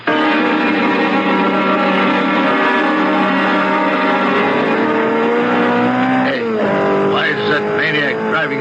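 A sports car that looks like a Simonetti roars past at high speed in a radio drama: a loud, sustained engine whine that climbs, then drops sharply in pitch as it passes, followed by fading revs.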